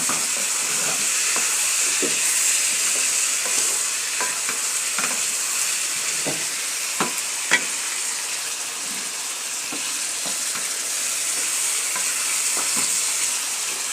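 Ghugni with potatoes stirred and frying in a pan: a steady loud sizzle throughout, broken by repeated scraping clicks of a spoon against the pan at an uneven rhythm, close to the microphone.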